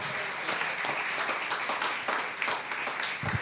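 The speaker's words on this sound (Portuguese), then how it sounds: "Palmas mais uma vez ao Rei Jesus." Congregation at a church service clapping in praise of King Jesus, a dense steady round of applause that rises and falls slightly over a few seconds, with no voices standing out.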